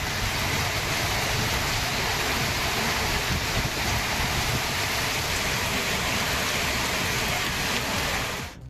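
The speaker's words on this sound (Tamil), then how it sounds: "அதன் சுற்று வட்டார பகுதிகளில் 1 மணி நேரத்துக்கு மேலாக காற்றுடன் கூடிய கனமழை கொட்டி தீர்த்தது" Heavy rain driven by wind pours down steadily during a thunderstorm, a dense, continuous roar of falling water close by, loud and unbroken with no voices.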